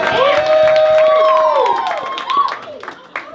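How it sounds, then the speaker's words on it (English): A comedy roast crowd cheers, whoops and claps for a woman being toasted, loud and close, with voices shouting over scattered applause that thins out toward the end. "everybody give Christine a round of applause"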